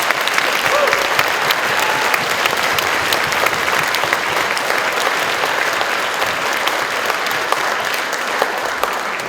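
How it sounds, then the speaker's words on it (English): Audience applause at a 5th to 8th grade school orchestra concert, dense sustained clapping from a full crowd, loud and even throughout with no talking over it. "let's give him a big round of applause."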